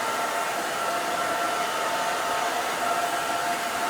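Hair dryer running continuously on damp hair, a steady close whooshing roar with a faint whine, unchanging throughout.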